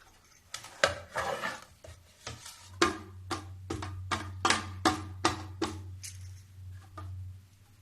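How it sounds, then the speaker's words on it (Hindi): A tray of sesame barfi (khakhori til ki barfi) is flipped onto a plate, producing a series of sharp metallic clacks and taps, about a dozen in an uneven rhythm, close and distinct over a low steady hum. "अब मैं एक प्लेट रखूंगी। अब इसमें मैं पलटूंगी।"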